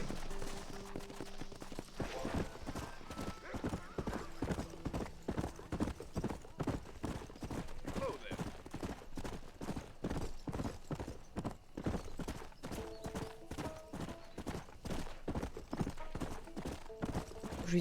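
Hooves of a galloping horse in the Red Dead Redemption video game pound in a fast, steady clip-clop rhythm, loud and close, with a few brief whinnies and other game sounds in the background.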